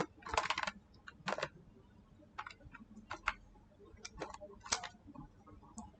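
Computer keyboard keys clatter close up as someone types in Notepad++, irregular clusters of crisp clicks with brief pauses between them and no voices.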